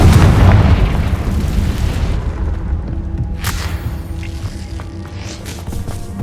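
Spell explosions from Bombarda and Confringo in Hogwarts Legacy, with a loud, deep boom at the start that rumbles and fades into a sustained low roar, followed by a few smaller crackling bursts.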